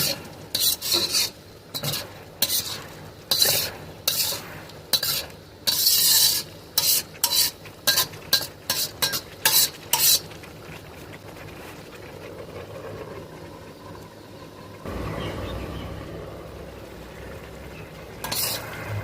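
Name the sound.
stirring and frying meat in a pan for khichuri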